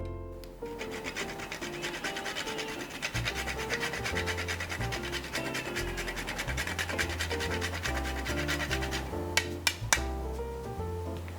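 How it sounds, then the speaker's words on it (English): Whole nutmeg is grated over a glass of spiked homemade eggnog, making quick, regular rasping strokes close to the listener over steady background music, with a couple of sharp taps near the end. "I'm just gonna grate some nutmeg on top."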